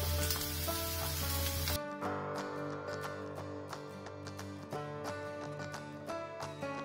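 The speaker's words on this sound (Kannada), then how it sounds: "ಜೀರಿಗೆ ಒಗ್ಗರಣೆ ಹಾಕಿ ಅದಕ್ಕೆ ಹೆಚ್ಚಿಟ್ಕೊಂಡಿರೋ ಬೆಂಡೆಕಾಯಿ ಹಾಕಿ ಫ್ರೈ ಮಾಡ್ತಾ ಇದ್ದೀನಿ" Chopped okra frying in a cumin tempering with turmeric, a steady close sizzle with a louder, fuller burst at the start, then lighter crackling and popping throughout.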